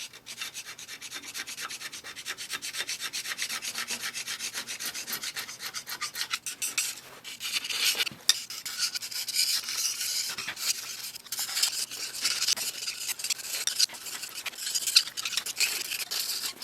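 A big flat tool rubs back and forth over a John Deere 1010 cylinder head, a close, steady rasping scrape in repeated strokes with no talk.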